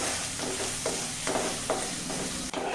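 Garlic and green chillies sautéing in oil over medium flame with mustard seeds, a steady sizzle broken by several soft scraping strokes of a spoon against the pan and no voices.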